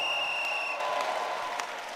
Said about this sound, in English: Give the Lord a clap and a shout if you believe.